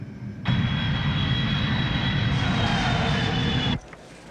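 Inside an airplane cabin, a steady, loud engine drone with a faint high whine holds for several seconds, then cuts off abruptly to a quieter hum.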